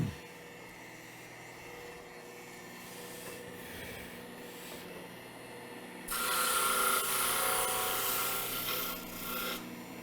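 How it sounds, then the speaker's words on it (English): Hand sanding of a wooden sculpture piece, a steady close rasping rub that grows louder and brighter partway through and continues without pause. "I'm going to finish the sanding of this object by hand."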